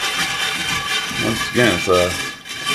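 A stainless steel scrubber works gently over a cast iron pan, giving close, gritty rasping strokes. Someone talks over the scrubbing.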